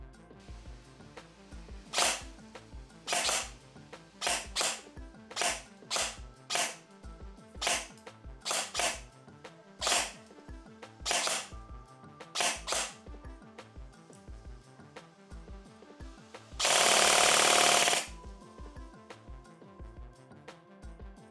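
Airsoft gun shots fired one by one through a compact Pocket Chrono chronograph, sharp snappy cracks at irregular intervals, with a brief burst of hissing noise near the end.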